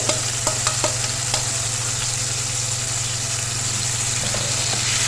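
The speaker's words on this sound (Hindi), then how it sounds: "इसको 2 मिनट तक हम भूनेंगे और कुछ भी ऐड नहीं करेंगे इसमें" Chicken cubes coated in tikka masala frying in a pan over medium-low flame, a constant loud sizzle with a low steady hum beneath and a few sharp ticks of stirring early on, no talking.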